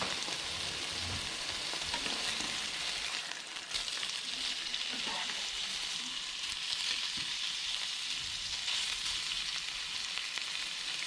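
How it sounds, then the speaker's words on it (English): Steaks sear in a hot pan with a little chili, giving a loud, steady crackling sizzle that runs unbroken throughout with no talking. "you're going to seal the steaks in."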